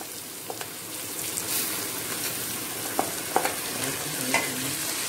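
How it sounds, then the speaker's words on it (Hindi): Soaked rice stir-fried over high flame in a pan with browned onions for fish biryani, giving a steady soft sizzle with a few clinks of stirring, heard alone. "चावल को हाई फ्लेम में थोड़ा देर इसको हिलाते रहे, नहीं तो जल जाएगा।"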